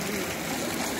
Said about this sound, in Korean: 아, 이 물소리. 좋아.